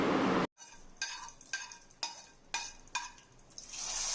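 Hot oil tempering of mustard seeds, curry leaves, dried red chilli and asafoetida poured into an amaranth leaf curry in a pan, with a loud burst followed by a series of sharp, regularly spaced clinks and stirring scrapes over a steady sizzle.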